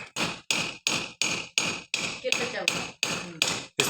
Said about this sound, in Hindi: स्टील के किल। हम इसमें दीवार में ठोक रहे हैं